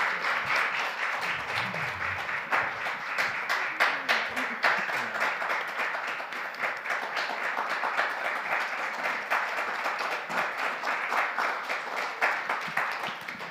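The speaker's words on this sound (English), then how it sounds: "Give a round of applause to our students." Sustained audience applause for student panelists at a panel discussion, dense many-handed clapping that holds steady throughout, with faint voices murmuring underneath early on.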